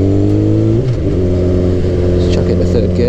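2007 Suzuki GSX-R 1000 litre-bike engine revving close to the rider, with harmonic tones that drop sharply at a gear change and then climb steadily again under hard acceleration, loud and continuous with light wind rush.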